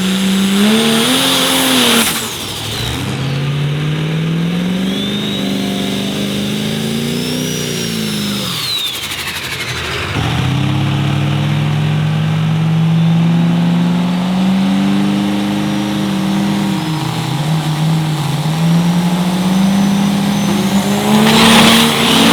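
Diesel trucks in an Outlaw Diesel Super Series Pro Street drag race roar down the track, loud engine howls rising through gear changes with tire squeal, one pass followed closely by another, no talk.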